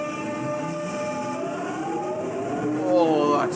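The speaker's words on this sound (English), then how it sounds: "Oh, that's good traction motor sounds." A London Underground 1996 stock train accelerates under traction power: a steady rumbling hum carries layered motor whines that climb sharply in pitch and swell louder toward the end.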